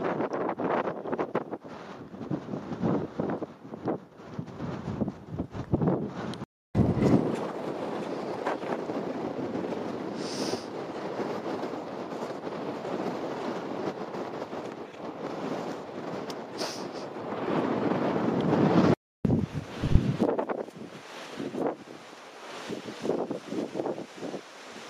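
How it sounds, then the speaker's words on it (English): Strong wind buffets the microphone in a constant low roar and rumble, with gusts surging and dropping out briefly, no voices. "Windy today."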